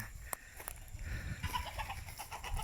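Chickens clucking and squawking nearby in short, irregular bursts, over a low rumble of outdoor background noise.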